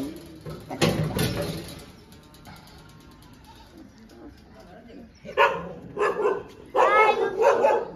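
A dog barks in loud bursts, first near the start and then in a rapid cluster toward the end, with people talking nearby.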